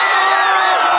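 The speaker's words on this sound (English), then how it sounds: "The Panther crowd is loving it." A high school football crowd cheers a 53-yard interception return for a touchdown, giving a loud, sustained roar of shouts and whoops with no gaps.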